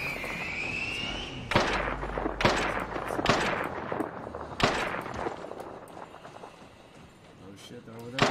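Gunfire in the video game Deathgarden: Bloodharvest cracks out as sharp, loud shots in irregular bursts across the clip, with a voice talking over the action.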